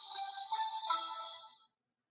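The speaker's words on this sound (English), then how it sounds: "that's the AT&T sound I have because my carrier is AT&T" An AT&T phone startup jingle plays alone as the handset reboots, a short bright electronic tone sequence lasting about a second and a half before cutting to silence.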